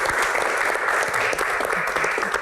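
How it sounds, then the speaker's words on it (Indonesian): Dense, steady clapping from an audience welcoming Ibu Ria Sungkar onto a Q&A stage, a continuous loud wash of hands with no pause. "Tepuk tangan untuk Ibu Ria Sungkar."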